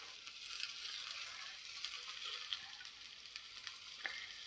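Moong dal parotta cooks on an oiled pan with a soft, steady sizzle and light crackling throughout, faint and close, with occasional small ticks, no talk over it.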